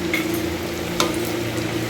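Food fries in a pan with a steady, close sizzle and a faint occasional crackle, continuous and unbroken, with no voices.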